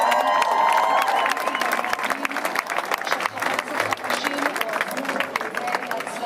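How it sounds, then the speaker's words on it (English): A large outdoor crowd cheers and applauds loudly and continuously at a gathering marking the release of hostages in a Gaza ceasefire, with dense clapping and shouting throughout. "Another big cheer from the crowds here."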